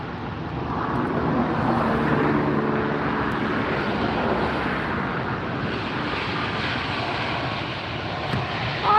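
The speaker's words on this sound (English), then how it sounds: "Coming in from JFK, this is a 767-400 ER. Delta Airlines, flight 772." A Delta Boeing 767-400ER lands at LAX, its engines giving a broad rumbling roar with faint tonal whine early on, swelling then gradually fading before a brief bump at the end.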